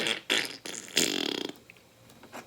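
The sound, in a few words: voice imitating a fart sound while squeezing epoxy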